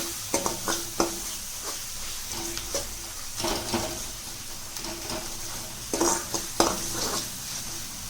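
Tomatoes fry in a pan for a mushroom curry, giving a soft, steady sizzle under repeated scrapes and clinks of a utensil stirring against the metal, close and fairly loud.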